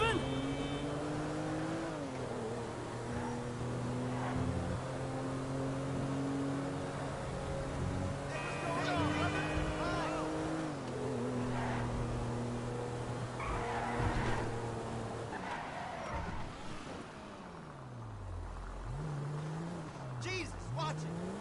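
A car driven in the video game Grand Theft Auto V, its engine droning steadily and climbing through gear changes, with tire squeals and skids near the end. The sound is fairly loud and continuous and plays under a voice.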